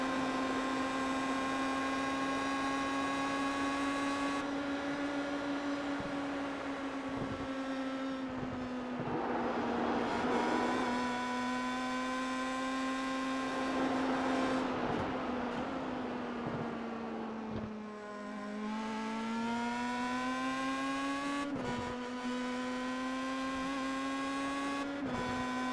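An iRacing Road to Indy race car engine screams at high revs, pitch rising and dropping through gear changes, steady and loud with no talk.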